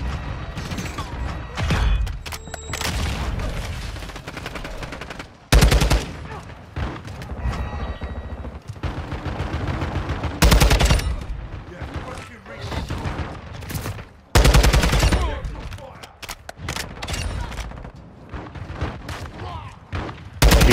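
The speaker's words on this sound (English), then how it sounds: "I hear the shotguns, fearing for my life" Heavy gunfire on the Shipment map in Call of Duty Modern Warfare 2: shotgun blasts and rifle bursts keep going, with several sharp, loud booms standing out, while players talk over the shooting.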